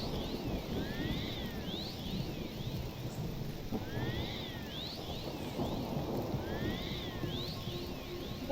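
Steady rain hisses throughout in the video game Morrowind, with a low stormy rumble underneath and faint repeating chirps on top, with no voices.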